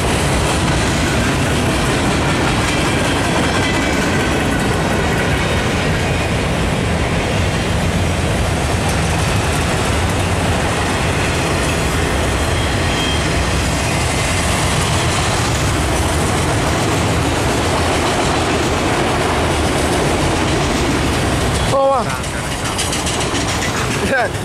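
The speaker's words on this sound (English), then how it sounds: "Boy, McEnroe's train's long." A long Union Pacific eastbound freight train rolls steadily past close by, a continuous loud rumble of wheels and railcars with rhythmic clatter that cuts off abruptly near the end; faint voices are heard over it.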